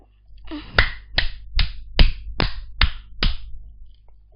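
Seven sharp hand claps in a steady, evenly spaced rhythm, close and crisp, with near silence around them.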